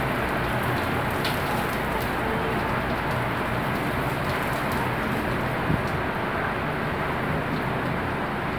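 Heavy rain from Typhoon Hanna falls as a dense, steady hiss that never lets up, with scattered faint drips and taps and no talk.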